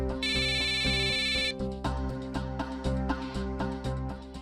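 An electronic phone ringtone plays one bright, buzzy burst of just over a second, then stops, leaving background music that carries on.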